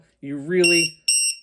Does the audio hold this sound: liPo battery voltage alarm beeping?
yes